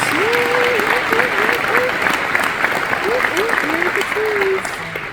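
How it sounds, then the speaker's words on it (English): Gala audience clapping steadily throughout a dinner event, a dense sustained applause under a speaker's voice talking over it, tapering slightly at the end. "So let's go ahead and give it up once again for Lindsay and Chris."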